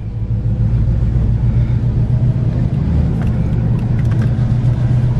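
A 1986 Chevrolet Monte Carlo SS with new suspension rumbles along on a test drive, its engine and road noise a steady, loud low drone heard from inside the car, with no voices.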